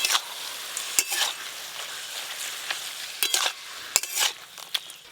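Shapla stems and hilsa fish heads are stirred in a pan, a steady close sizzle broken by sharp clinks and scrapes of the spatula against the metal every second or so.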